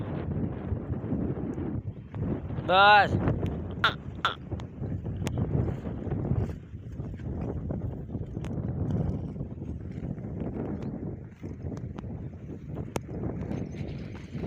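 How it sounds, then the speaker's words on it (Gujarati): Steady wind rushing and buffeting the microphone throughout, with a brief creaking, whistling tone early on and a single short spoken word. "પવન પાછો ફૂંકાવા માંડ્યો છે."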